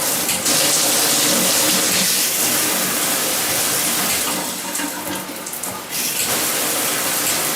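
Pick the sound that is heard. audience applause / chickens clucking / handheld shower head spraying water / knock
handheld shower head spraying water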